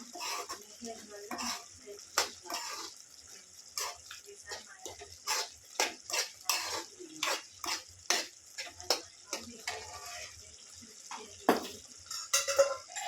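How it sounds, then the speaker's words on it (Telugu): A spoon stirs chili powder into a mango, drumstick and prawn curry in a pot, making about a dozen rhythmic scraping and clattering strokes against the metal, close and fairly loud over a faint sizzle. "ఇప్పుడు 2 చెంచాలు కారం వేసుకోవాలి గైస్. వేసుకొని బాగా కలదిప్పుకోవాలి."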